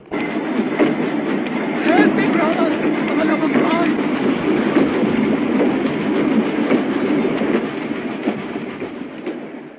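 A train rolls along railway tracks with a continuous rumbling clatter, loud and close, while a narrator speaks over it throughout.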